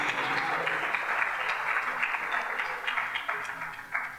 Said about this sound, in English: Give her a round of applause again,